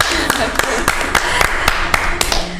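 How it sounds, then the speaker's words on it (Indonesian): Audience claps for a guest on an Indonesian podcast, sharp separate hand claps arriving in a loose, fairly regular rhythm at close range over a constant background hum. "Tepuk tangan dulu."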